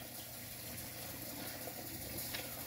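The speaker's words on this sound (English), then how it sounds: "So I'm letting the water get a little hot" A kitchen faucet runs while the water heats up before lunch dishes are washed, a faint steady hiss of flowing water with no voices over it.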